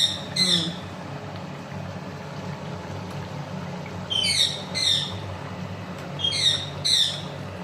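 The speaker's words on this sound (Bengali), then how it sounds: "ওদিকে আমাদের তোতা পাখি চিল্লাচ্ছে" A pet parrot lets out several shrill, harsh screeches in short bursts, heard over steady household kitchen background noise while fish curry is being cooked.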